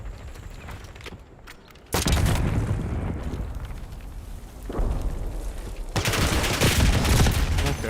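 Loud bursts of weapon fire and explosive booms from rockets launched in a multiplayer shooter game's ranked Hardpoint match, with a dense barrage starting near two seconds and intensifying again toward the end, no talk.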